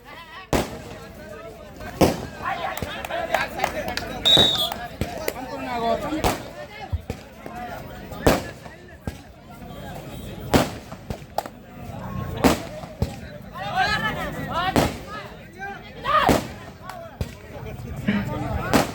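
Firecrackers bursting in a village before Diwali, sharp loud bangs going off every second or two in an irregular string, with someone talking excitedly and crowd noise throughout.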